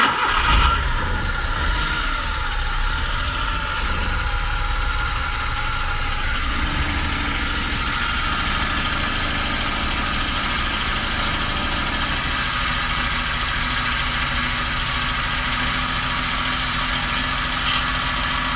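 A small Suzuki F6A car engine cranks and catches at the start, then settles into a steady, loud idle that drones on without a break.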